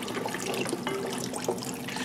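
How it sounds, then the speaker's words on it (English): Room-temperature seafood stock being poured into a pot for gumbo makes a steady splashing, trickling liquid sound with small drips, close and continuous, with no talk. "Going in with some seafood stock right here that I just got from the store."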